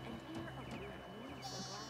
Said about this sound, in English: What's that goat?